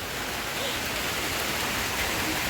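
Heavy rain pours down in a forest, a dense, loud, unbroken hiss of falling water that fills the whole stretch with no pauses.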